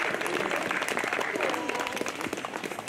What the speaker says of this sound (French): Bravo, vous pouvez applaudir.